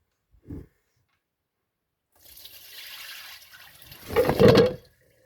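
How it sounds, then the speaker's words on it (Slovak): Water being poured out of an air fryer basket after cleaning off dirt, a couple of seconds of steady splashing that swells into a louder gush before stopping, preceded by a brief knock; no talking. "vylejete tú vodu."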